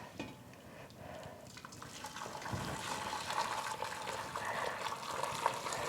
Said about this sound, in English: Pouring boiling water over it.